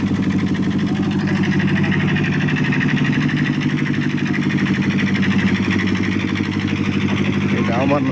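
Generator running steadily to heat and melt chunks of asphalt, a loud continuous engine drone with a throbbing rumble that holds unbroken throughout.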